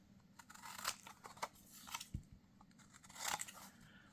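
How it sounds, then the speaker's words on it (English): Scissors trim paper straight across for an accordion-folded hardback book, giving several quiet, close snips and crunchy cuts spaced irregularly in a calm room. "I'm going to take my scissors and I'm going to trim straight across"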